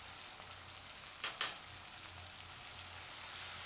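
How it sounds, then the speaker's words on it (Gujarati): Tomatoes with turmeric and spices sizzle steadily in hot oil, a soft, continuous hiss with one brief stirring clatter partway through, heard alone. "તેલમાં ટમેટાં નાખીએ ને એટલે ટમેટાં તરત પાકી જાય."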